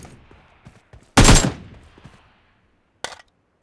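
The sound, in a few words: gunfire in video game PUBG Mobile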